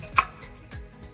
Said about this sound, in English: And I'm going to slice and dice.